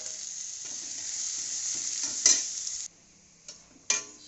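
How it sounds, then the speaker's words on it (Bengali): Bay leaf, dried chili, cumin seeds and chopped onion frying in hot oil in a pan, a bright steady sizzle with a few stirring scrapes and a louder burst of spattering near the end. "তেজপাতা শুকনো লঙ্কা দিয়ে দিলাম, একটু জিরা ফোড়ন দিয়ে দিলাম, একটু পেঁয়াজ কুচিয়ে দিয়ে দিলাম"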